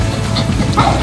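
A dog in the video game Metal Gear Solid V gives a short bark or yip, close and loud within a brief burst.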